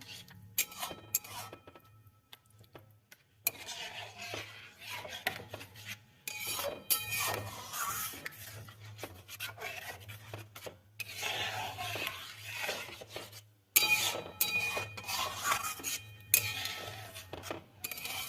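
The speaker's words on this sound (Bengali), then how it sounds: "ভালো করে মিশিয়ে নিতে হবে।" Scraping and rubbing of a spoon against a pot as powdered milk is stirred into cauliflower payesh, a repeated close rasping with occasional clinks over a low steady hum.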